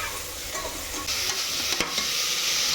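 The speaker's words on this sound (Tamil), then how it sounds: "தக்காளி வெங்காயம் போட்டு வதக்கிட்டு இருக்காங்க எங்கள் அம்மா." Tomatoes and onions sauté to golden brown in a pan for homemade biryani, giving a steady sizzle with scraping and clinking stirring strokes, close and loud, with no talking.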